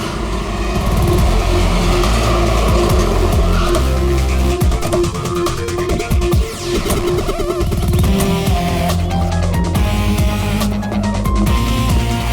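A car engine keeps running after a crash, its steady loud drone and mechanical hum continuing without a break, with no voices over it.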